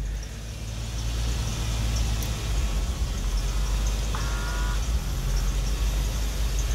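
A 1999 Jeep Cherokee XJ two-door engine idles roughly and unevenly, a steady low rumble that sounds close and fairly loud throughout, with a brief faint electronic tone partway through.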